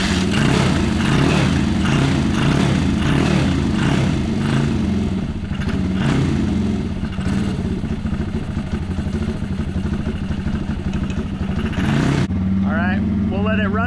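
An SSR140TR pit bike runs on a stand with no wheels fitted. Its loud, close engine chugs continuously with uneven revving throughout, and voices come and go underneath.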